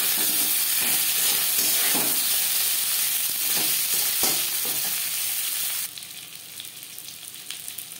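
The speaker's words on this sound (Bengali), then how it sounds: "10-15 সেকেন্ড ভেজে নেওয়ার পর দিয়ে দেব আলু" Boiled, peeled potatoes hit a hot pan of oil and tempering spices for a home fish curry, giving a steady close sizzle with stirring clatter that drops quieter near the end.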